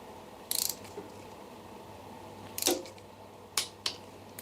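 A torque wrench tightening differential girdle cover bolts to 25 foot-pounds in a crisscross pattern gives four short, close, crisp metallic ratcheting clicks, spaced irregularly against a quiet background.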